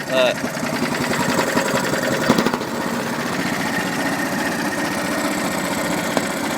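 An engine runs fast and steady with a rapid mechanical chatter and vibration, loud and close, holding an even high pitch throughout.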